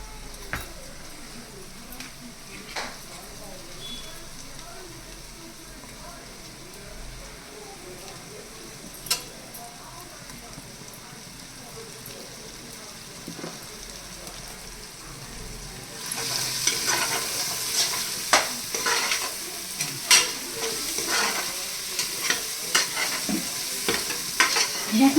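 Ginger garlic paste frying in a pan and stirred for an egg biryani, a soft sizzle with occasional utensil taps that grows louder and brighter partway through as stirring picks up, with brief voices faintly underneath.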